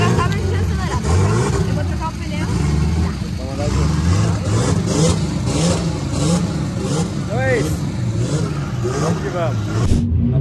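The car Laranjão revving and accelerating, its engine rising and falling in repeated bursts close by, with excited voices and chatter mixed in throughout.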